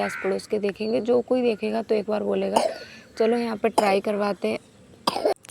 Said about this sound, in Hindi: थोड़ा सा वो खांस रही है तो उसी की आवाज़ है।